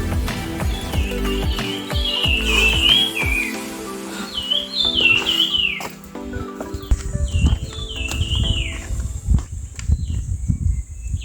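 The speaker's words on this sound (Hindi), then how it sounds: "पंछियों का आवाज़ कानों को सुकून दे रहा था।" Wild birds call along the mountain trail to Harishchandragad fort, past Tolarkhind, with repeated whistled, warbling phrases close by, over rustling footsteps and scuffs on the path.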